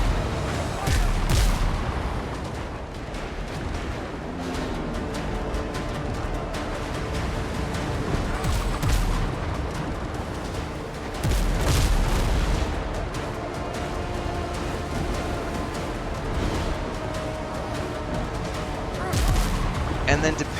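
Ship cannon fire in the pirate game Windrose thunders in repeated heavy booms and crackling blasts over a dense battle din, loud and close throughout the stretch.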